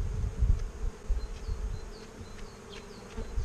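Honey bees on a hive frame, a close, steady buzzing drone with low rumbling handling noise and a few brief higher-pitched passes from individual bees flying by.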